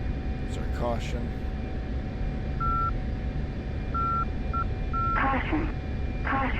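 Cockpit caution warning tone in a fighter jet flight simulator, a series of clean, short beeping pulses repeated several times over a constant engine and air-conditioning hum, with brief radio-style voices near the start and end.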